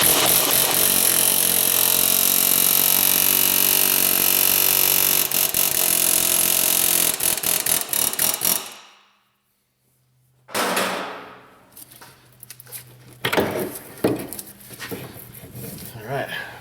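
Metal hammer blows drive a long barrel drift down onto a rear strut spindle on a Ford Taurus sedan. A loud sustained mechanical racket gives way to a pause, then sharp separate impacts. Voices may also be present.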